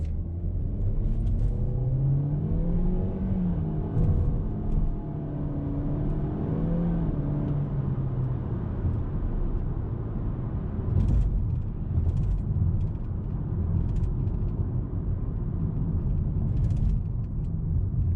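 Steady low road and engine rumble from a 2019 Lexus UX200 being driven, with rising harmonic engine tones as it accelerates and faint intermittent rattling ticks from a loose tripod in the rear, continuous and close without talk.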